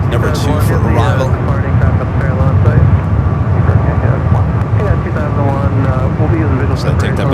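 A LOT Polish Airlines Boeing 787 Dreamliner approaches San Francisco International Airport as a deep, steady jet roar mixed with wind buffeting the microphone, while people talk over it.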